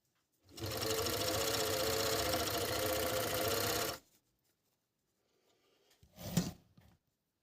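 Hand-cranked Agat overlock sewing machine running with no electric power, a steady dense mechanical whir of rapid stitching for about three and a half seconds, then quiet and a brief rustle of fabric handling.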